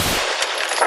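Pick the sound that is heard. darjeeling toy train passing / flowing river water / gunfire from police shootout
gunfire from police shootout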